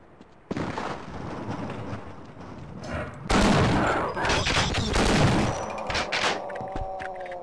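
Shotgun blasts from Half-Life boom loudly in quick succession after a short quiet lead-in, with a heavy rolling tail and ringing decay between shots.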